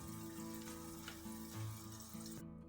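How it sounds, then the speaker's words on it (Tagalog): Chicken pieces simmering in Sprite in a pot, a steady bubbling, sizzling boil with a constant watery hiss, close and moderately loud, with no talking. "Pakuluan na lang muna natin siya dyan ka-friendship hanggang maluto yung ating chicken"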